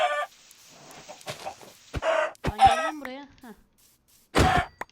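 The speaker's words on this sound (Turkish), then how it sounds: "Tavuk." Chickens in the Minecraft video game give a series of short, close clucks and squawks, scattered in bursts between quiet gaps, with a human voice making brief throaty sounds among them.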